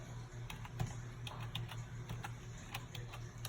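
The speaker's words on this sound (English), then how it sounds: "I'm typing in zip code" Typing on a computer keyboard while a zip code goes into a form field: a steady run of light, scattered key clicks over a low constant hum, close and fairly faint, with no voices.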